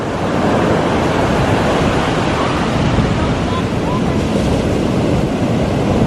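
Continuous roar of Pacific Ocean surf washing in at Lincoln City, Oregon, loud and steady, with wind buffeting the microphone throughout.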